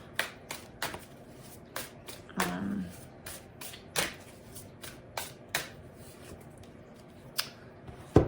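Oracle cards from an Untethered Soul deck being shuffled by hand, a close series of crisp, evenly spaced riffling snaps, with a brief faint voice partway through.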